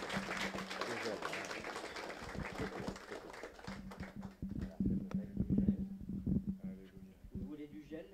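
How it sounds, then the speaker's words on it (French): Church congregation at a Sunday worship service applauding after a blessing, a broad wash of clapping mixed with voices and a steady low hum, thinning out as talk continues toward the end. "On applaudit."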